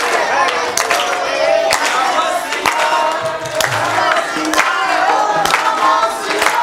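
A kirtan audience joins in a loud communal chant of "Om Namah Shivaya" with rhythmic group clapping, the crowd's voices massed and steady throughout, with sharp clap accents cutting through at irregular intervals.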